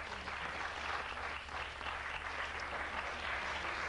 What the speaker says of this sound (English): People applaud if you've seen one.